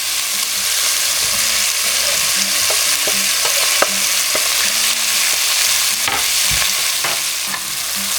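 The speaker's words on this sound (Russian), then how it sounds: "и теперь добавляем сюда лук" Onions frying in a pan give a loud, continuous sizzle close by, broken by scattered clicks and scrapes of stirring, with no voices.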